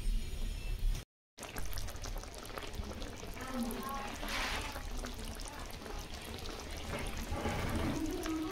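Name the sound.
pouring milk into the cooking pan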